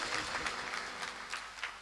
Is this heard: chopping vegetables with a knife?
no